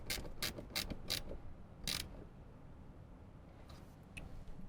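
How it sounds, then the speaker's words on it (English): Two 10mm bolts being tightened while car speakers are installed in a 2024 Toyota Land Cruiser, heard as a run of quick ratcheting clicks, a short pause, one more click, then faint scattered ticks. "we can tighten those two 10mm bolts down"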